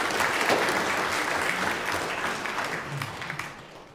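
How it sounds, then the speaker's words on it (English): Sustained audience applause in a concert hall at a chamber music event, dense clapping from a crowd that stays steady and then slowly fades toward the end. "help us to recognize all of these generous contributors with a round of applause"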